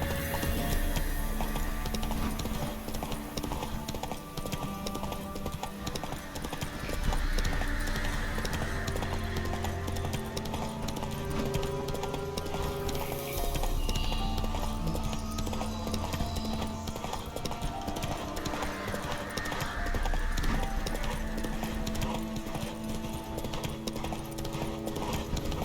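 Horse hooves clip-clopping in a steady galloping rhythm in The Witcher 3 game, continuous and fairly close, with faint mechanical clatter and a brief whinny-like tone behind.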